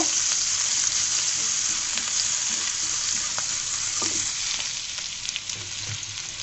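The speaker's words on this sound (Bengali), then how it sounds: "পেঁয়াজটাকে আমি ভেজে নিব" Onion frying in a pan with a continuous bright hiss of sizzling oil, occasional scrapes of stirring, fairly close and steady, slightly fading toward the end; no one speaks.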